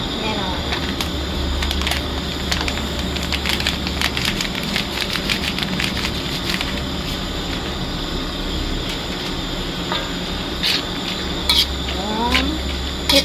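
Spicy Thai basil pork stir-fried in a pan, with continuous sizzling, spatula stirring and metal pan clatter running throughout under background voices and kitchen noise.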